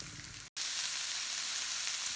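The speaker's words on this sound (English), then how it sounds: "Things are sizzling here, smelling super good." Broccoli and mixed vegetables sizzle in a hot stir-fry pan, a loud, bright, continuous frying hiss broken by a brief silent cut, with no talking.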